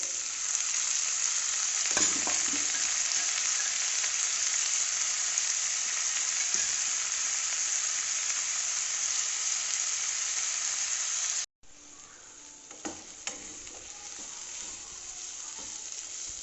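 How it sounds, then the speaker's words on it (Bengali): Kundru (ivy gourd) frying in a pan produces a steady, loud sizzle with a few stirring clinks. The sound cuts out abruptly for a moment, then resumes a little quieter with more scraping and tapping. "কুন্দ্রু ভাজা হয়ে গেছে"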